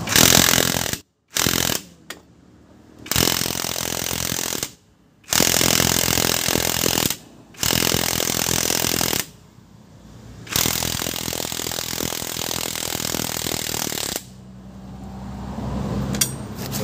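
A power impact tool loosens a rusted CV joint on a Suzuki mini van, loud rattling hammering bursts in several long runs separated by short pauses, close up and without speech.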